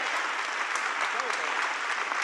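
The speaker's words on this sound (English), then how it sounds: "Give him a round of applause." Crowd applause at a JD Vance campaign rally in Charlotte, a steady, dense wash of clapping from a large audience that holds at an even level throughout.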